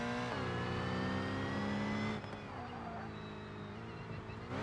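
Race car engine in the BeamNG video game, a loud, sustained high-pitched whine that holds, then drops sharply as the revs fall and climbs again, close and continuous.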